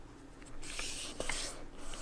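A 6 by 6 inch square of paper being folded over by hand for a paper butterfly, with soft close rustling and a light crease rubbing, brief and quiet.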